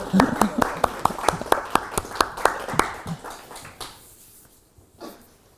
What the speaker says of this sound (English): Should have clapped for the other translators too